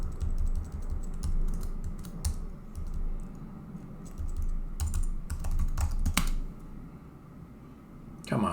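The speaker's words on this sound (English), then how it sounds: "I was just typing it." Clattering keystrokes on a computer keyboard come in irregular bursts of rapid clicks with short pauses, close to the microphone, while a person talks quietly in the background.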